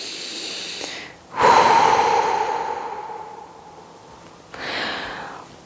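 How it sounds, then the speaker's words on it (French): A long, audible exhale during a yoga session, loud breathy rush starting abruptly and fading over a few seconds, followed by a second softer breath near the end; no talking. "Une respiration."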